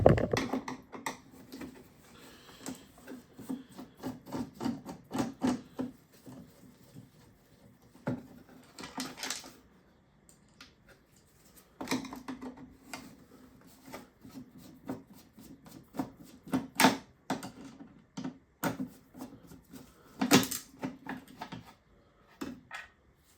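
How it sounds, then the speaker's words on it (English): Phillips screwdriver working screws out of a Saeco Royal coffee machine, close-up bursts of small clicks, ticks and plastic rattles that come in irregular clusters with short quiet gaps. "Start with the Phillips head. Right here there is 2 screws."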